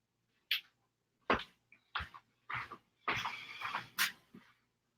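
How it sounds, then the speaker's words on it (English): A dog barks indoors in a house, giving several short, sharp barks in an uneven sequence, with a longer burst near the end, in an otherwise quiet room. "No barking in the house."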